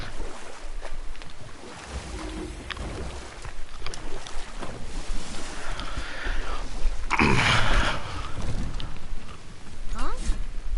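Steady wash of water and wind around a moving boat in the video game God of War, with a louder splashing surge midway, rumbling low engine-like noise throughout.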